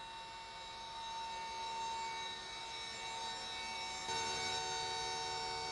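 A Langson total flow gas letdown generator runs steadily with a loud, even mechanical whine and layered tones, rising slightly in intensity partway through, with no voices.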